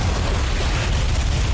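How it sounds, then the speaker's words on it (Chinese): A spaceship exploding underwater as a TV show sound effect, a brief loud, dense rumbling blast that fills the whole clip and cuts off abruptly at the end. "飞船在水下爆炸。"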